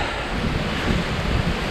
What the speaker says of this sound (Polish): Troszkę mnie ten wiatr przeraża